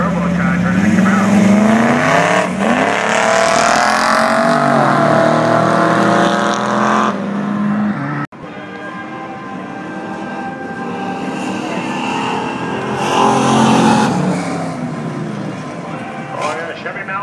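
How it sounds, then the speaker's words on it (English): Chevy Malibu and a small Pontiac launching off the start line at a drag strip during the Summer Nationals, loud engine roar that rises and fades, with a voice commentating over the noise throughout. "Chevy Malibu pulling out away from that little Pontiac right there."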